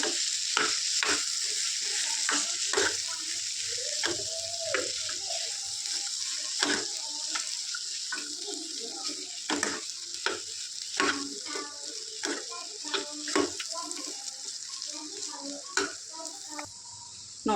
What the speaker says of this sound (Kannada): ಆ ಸ್ಮ್ಯಾಶ್ ಮಾಡಿಟ್ಕೊಂಡಿರೋ ಆಲೂಗಡ್ಡೆನ ಹಾಕ್ಕೊಂಡ್ಬಿಟ್ಟು ಚೆನ್ನಾಗಿ ಮಿಕ್ಸ್ ಮಾಡ್ಕೋಬೇಕು ಈ ಮಸಾಲೆ ಒಳಗಡೆ